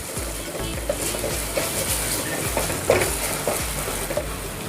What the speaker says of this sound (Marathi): आता याच्यामध्ये मी अर्धा टीस्पून आलं लसूण पेस्ट घालते व्यवस्थित परतून घ्यायची आलं लसूण पेस्ट